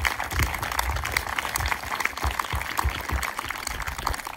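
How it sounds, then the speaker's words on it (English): A crowd at a junior hardball team prize giving applauds, a fairly faint, scattered patter of clapping heard from a distance that carries on steadily throughout. "So that's our first round of applause."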